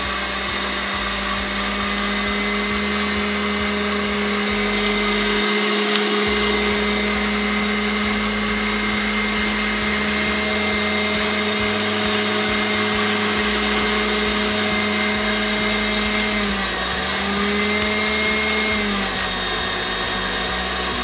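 An electric mixer creaming butter for a vanilla cake batter gives a steady, loud motor whir that drones on without a break, its pitch wavering slightly near the end.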